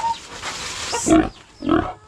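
A large native sow grunts up close, two short, deep, rough grunts separated by a pause, over faint background noise.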